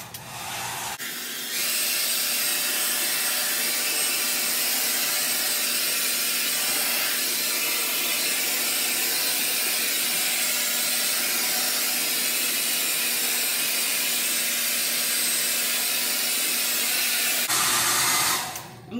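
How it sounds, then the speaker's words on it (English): A handheld hair dryer blows on a lace wig set on a head, a loud, close, continuous airy roar that runs for about sixteen seconds after it switches on and stops as it switches off. "so I'm going to blow dry a little bit"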